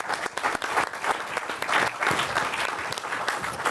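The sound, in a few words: audience applause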